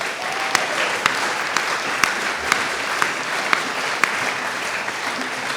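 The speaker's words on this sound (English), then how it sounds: "I know a little run over because of the clapping" Steady audience applause at a parliamentary candidates' hustings debate, a sustained wash of clapping with a few sharper nearby claps standing out at regular intervals, moderately loud and without speech.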